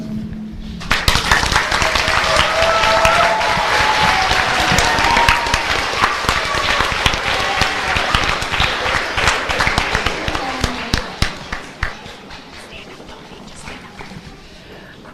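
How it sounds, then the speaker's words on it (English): An elementary school promotion ceremony audience breaks into sustained applause for student speakers, dense clapping starting abruptly and continuing loud for about ten seconds before thinning into scattered claps, with a voice briefly audible. "If we can give all of these student speakers one more round of applause"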